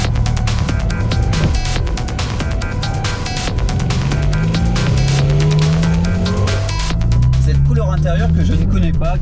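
Porsche 996 RTS3, a wide, powerful GT3-based 911, drives on the road, its engine droning loud and steady with rising and falling pitch as it accelerates through gears, a sharper surge near the end.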